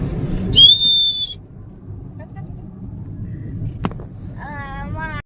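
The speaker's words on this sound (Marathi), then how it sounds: "बघा आता शिट्टी वाजून दाखवू" A shrill, warbling toy whistle blown twice, a short high burst near the start and another at the end, with quiet room noise and a sharp click between.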